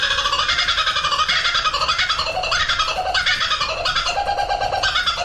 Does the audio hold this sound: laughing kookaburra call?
yes